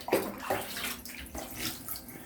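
Water running into a bath for a baby, a close, steady splashing stream with a few brief louder gushes, quiet and uninterrupted by talk.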